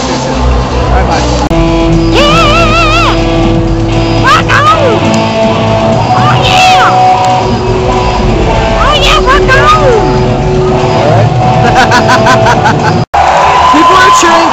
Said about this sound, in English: People are cheering because this guy is vacuuming.